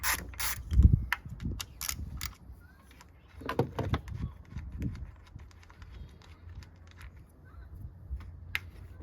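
Work on a 2017 Hyundai Elantra engine, where a sensor is unbolted with a ratchet, giving bursts of clicking, metallic knocks and rattling tool handling, close and intermittent without speech.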